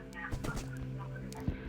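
A Minecraft chicken clucks a few short, rapid times, fairly faint against a steady background hum.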